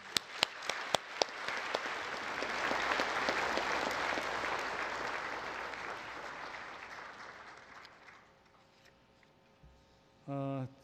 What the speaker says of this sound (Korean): 우리 고명진 목사님께 뜨거운 박수 한번 부탁드리겠습니다